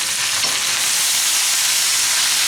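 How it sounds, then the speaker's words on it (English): Chicken and okra sizzle loudly in a pan as they are sautéed and stirred, a dense, continuous frying hiss heard up close with no talk. "I'm going to saute this, mix everything up"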